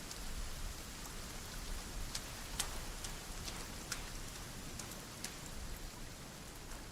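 Steady rain in the survival video game Sons Of The Forest, a dense continuous hiss with scattered crisp droplet ticks, heard alone at an even moderate level throughout.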